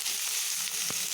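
Olives fry in hot oil with a soft continuous sizzle and a faint stirring scrape partway through, a brief quiet moment in a home kitchen with no talking.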